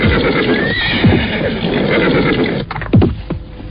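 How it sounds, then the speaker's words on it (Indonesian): Two horses neigh and whinny loudly against a constant dense rumble as they descend a rocky hill onto a stony road, with a faint clatter of hooves and a sharp whinny rising near the end. "Derap 2 ekor kuda terdengar menuruni gundukan bukit dan meluncur turun melewati jalanan"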